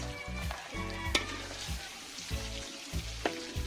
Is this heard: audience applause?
no